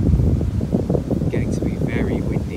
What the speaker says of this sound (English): getting to be very windy now